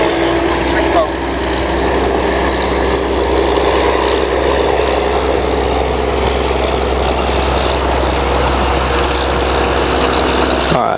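An E-flite Piper Cherokee RC plane makes a low presentation pass, its electric motor and propeller giving a steady, loud drone with a faint rising whine, heard outdoors under light wind.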